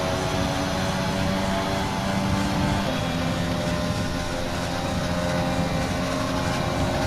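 A continuous race car engine drone in a video game, with a rough, grinding, chirping chatter running under it, steady and loud throughout with no pauses.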